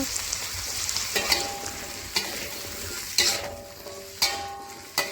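Meatballs and tomato sizzle steadily in a pan while a utensil scrapes and stirs at regular intervals, each stroke producing a sharp clatter.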